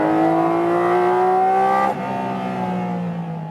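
Porsche 718 GT4 RS engine roaring loudly at close range on a racetrack, a sustained high-revving note climbing in pitch before an abrupt gear change drops it to a lower drone that builds again.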